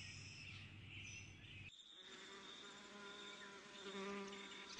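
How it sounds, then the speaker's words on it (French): Asian hornets fight in the air near beehives, giving a faint, continuous insect buzz with wingbeat whines that shift in pitch as they dart about, close by and with no talk. "Ces conflits éclatent continuellement devant les ruches, où la compétition entre frelons est rude."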